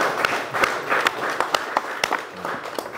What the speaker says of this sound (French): Ça mérite quand même quelques applaudissements